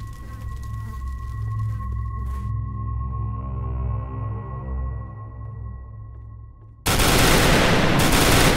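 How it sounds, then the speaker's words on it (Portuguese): Gunfire in a dark video game set in a rural county, arriving as a sudden loud burst after a long steady tonal hum and drone. "tiros disparados"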